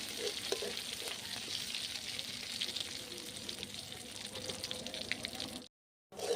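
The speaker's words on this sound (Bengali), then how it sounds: "মাছের তেলটা ভাজা হয়ে গেছে এবার আমি তুলে নেবো" Steady sizzling of fish fat frying in a pan, with soft crackles and spatter throughout, briefly cutting out near the end.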